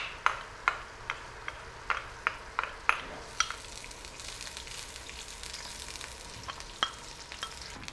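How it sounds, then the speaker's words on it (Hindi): Halwa cooking in ghee and sugar in a pan over low heat, with intermittent stirring scrapes and clicks against the pan above a faint, steady sizzle, louder in the first few seconds and sparser later. "घी डालने के बाद इसको हम हल्की आंच पर 4 से 5 मिनट तक पकाएंगे ताकि ये ब्राउन हो जाए।"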